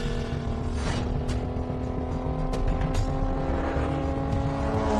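Racing cars roar at high speed in a continuous loud engine drone, with brief whooshes of cars passing and overtaking close by, no voices over it.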